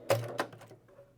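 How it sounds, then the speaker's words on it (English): A Janome HD-9 sewing machine stitching with no stitch plate or plate cover, two sharp mechanical clacks close together followed by a fainter whirring tail, heard up close and quietly with no talking. "I'm going to put that in the machine, and I'm going to show you what it's going to look like here."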